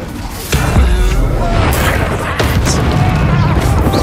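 A fire spell, Incendio, cast in the Hogwarts Legacy game: a sharp burst lands about half a second in, followed by a sustained roaring whoosh and a second hit near 2.4 seconds, with a voice heard briefly amid the effects.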